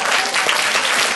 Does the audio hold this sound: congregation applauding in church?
yes